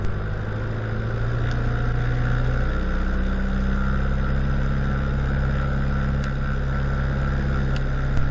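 Jabiru J120 light aircraft engine held at 2000 revs during a pre-flight run-up, a steady droning hum heard from inside the cabin, constant and unbroken throughout.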